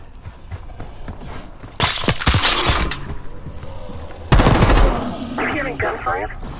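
Distant gunfire from lower floors in Call of Duty: Black Ops 6, bursts of rapid rattling shots in two main volleys amid mechanical clatter, with a voice speaking over the scene.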